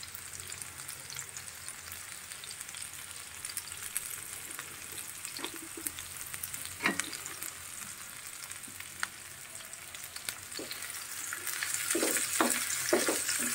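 Onion frying in a pan for beef potato cutlets, a steady close sizzle with a few sharp crackles and spatters, growing louder toward the end, with no talking.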